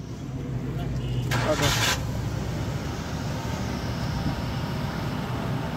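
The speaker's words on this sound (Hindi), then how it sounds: "और मैं अब इसको गाड़ी को स्टार्ट करता हूँ।" A car engine cranks and catches with a burst around the one-second mark, then settles into a steady idle hum, while someone talks over it.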